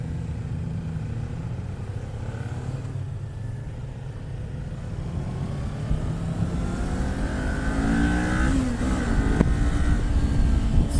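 A 2018 Kawasaki Ninja 400 engine drones steadily while being ridden, rising in pitch as it accelerates toward the end, close and fairly loud under wind rush, with no talking.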